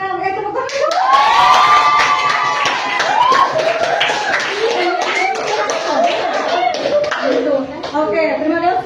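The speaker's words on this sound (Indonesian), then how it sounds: "Tepuk tangan dulu." A classroom group of children claps together, a dense rapid patter with shouts and cheering voices mixed in, loud and close throughout.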